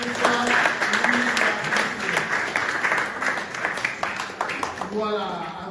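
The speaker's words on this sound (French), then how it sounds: "Sous vos applaudissements, s'il vous plaît." An audience claps for the artist Ulysse Kezi in a sustained, busy round of applause, while a voice talks over the clapping throughout.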